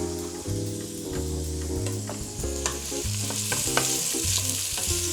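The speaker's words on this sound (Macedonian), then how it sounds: "Почна да се пржи за солета, за да ја испушти целата вода и да се застакли малку" Ingredients for turlitava fry in salt in a pan, a continuous close sizzle layered with frequent scraping and clinking as they are stirred.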